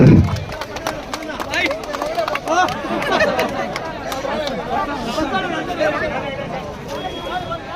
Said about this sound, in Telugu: క్లాప్స్ కొట్టడం అందరూ క్లాప్స్.